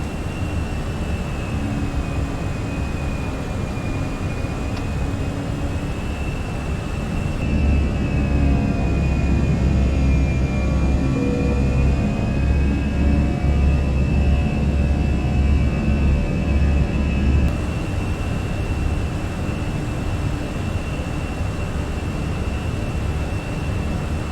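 Engines of a Fenix A320 airliner in Microsoft Flight Simulator hold climb thrust as a steady, loud turbine roar with a high whine on top, swelling in low rumble partway through and then easing back.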